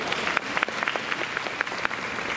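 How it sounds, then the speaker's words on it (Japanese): A live audience claps at a Spanish performance show at the Shima Spain Village theme park, giving a brief burst of steady, fairly loud applause from many hands. "皆さんからの拍手、"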